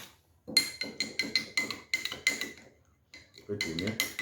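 A spoon stirs aloe vera gel in a half-filled glass, giving a quick series of bright clinks and scrapes against the glass in an irregular rhythm, close and fairly loud, with a short pause before a final burst.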